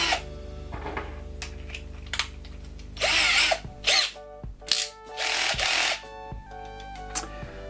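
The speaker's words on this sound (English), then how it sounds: "And now let's try to screw" An IKEA FIXA 14.4V cordless screwdriver drill drives a screw, whirring in several close bursts of varying length separated by clicks and handling noise.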